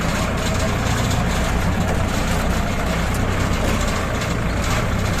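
A Kubota L5018sp tractor runs steadily while mowing grass in a palm plantation in the rain, giving a continuous dense engine drone with a broad noisy hiss and no pauses.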